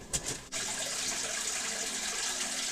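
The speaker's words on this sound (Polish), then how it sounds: "Mamy piękne źródełko wody radonowej" A small radon-water spring at a radon spa resort flows in a steady, close, fairly loud trickling rush that holds constant throughout, with no voices.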